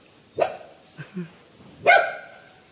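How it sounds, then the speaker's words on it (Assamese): A dog barks three times, two sharp loud barks framing a softer yip, close by with short gaps and no talking over it. "তো এইটোৱে কুকুৰটো"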